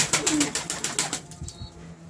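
A black-green pigeon flaps its wings in a quick run of close, loud beats, followed by a softer low coo as the flapping stops.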